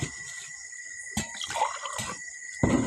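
Tap water runs in short bursts with faint drips and splashing, chlorinated water from a household faucet, fairly close, with a louder gush near the end.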